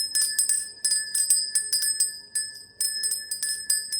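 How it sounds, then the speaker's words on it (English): Small bell rung to cleanse a space, rapid repeated bright metallic strikes with ringing tones, loud and close, in uneven bursts with short pauses and no talk. "we're going to ring the bell and cleanse the space"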